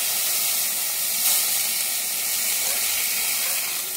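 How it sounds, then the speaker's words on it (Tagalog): Broth poured into a pan of sautéed chicken feet for tinola, bursting into a loud, steady sizzle and steamy hiss that fills the clip without a break. "Lalagyan na natin ng sabaw."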